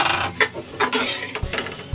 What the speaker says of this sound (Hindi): फिर से चलाते रहना है